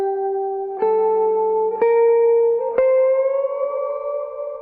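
A sustained synth tone is played through a reverb effect, with three sharp note changes that ring out and trail into a smooth, lingering wash of echo.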